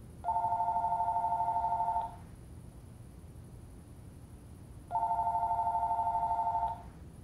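A telephone rings twice, each ring a long electronic trill of about two seconds separated by a pause, loud and close with faint background hiss.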